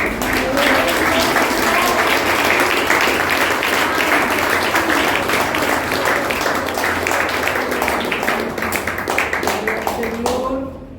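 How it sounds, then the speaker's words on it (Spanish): A church congregation applauds loudly and steadily for about ten seconds, the dense clapping filling the room before fading at the end, with some voices mixed in. "Denle un fuerte aplauso al Señor"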